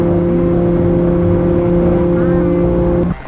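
A Lamborghini engine drones loud and steady with a strong, sustained tonal hum as it gets under way, cutting off abruptly near the end.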